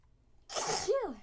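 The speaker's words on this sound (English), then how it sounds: "Oh my dear, how many times can I sneeze?" A single sharp sneeze bursts out close up, a breathy hiss ending in a brief voiced tail.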